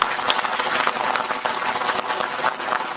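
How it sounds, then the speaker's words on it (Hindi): Audience applause for event sponsors at a Hindi-language gathering, a steady dense wash of clapping filling the whole moment without pause. "हम चाहते हैं कि हमारे जितने भी स्पॉन्सर्स हैं उनके लिए भी एक दफ़ा ज़ोरदार तालियां।"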